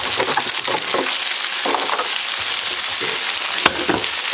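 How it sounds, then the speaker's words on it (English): Mushrooms frying in melted butter in a pan for a sausage and mushroom pasta, a steady close sizzle with occasional stirring scrapes and a sharp clink near the end, no talking. "we got the butter melted, so we're going to put in our pound of"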